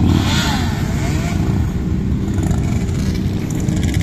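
A red three-wheeled motorcycle's engine at a motorcycle season opening event, a loud, steady, close rumble that holds without pause for the whole stretch.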